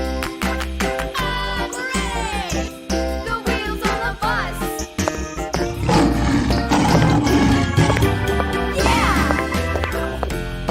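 A lion roars in a children's animal video game where players win fruits, the roar set amid busy cartoon music and bright sound effects that play continuously.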